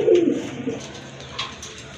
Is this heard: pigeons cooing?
yes